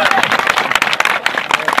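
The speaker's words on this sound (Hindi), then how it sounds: "ताली ठोक दे" An audience at a live Saraiki stage drama claps in a dense, crackling burst of applause, mixed with voices talking over it.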